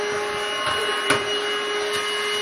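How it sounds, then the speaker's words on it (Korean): A household vacuum cleaner runs steadily at home during cleaning, a constant loud whine and hum with faint bumps and knocks from the nozzle moving about. "빨리 해야지, 청소기로."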